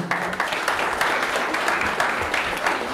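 An audience at a heritage award ceremony applauds a team, giving steady, fairly close clapping with scattered sharper claps throughout the short burst.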